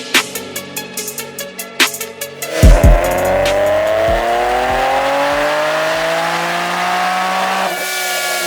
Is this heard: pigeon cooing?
no